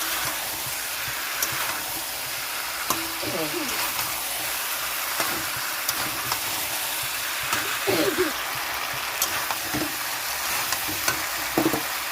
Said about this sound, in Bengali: ভেজে রাখা আলু ইঁচড়টা দেওয়ার পরে এখন ভালো করে কষাচ্ছি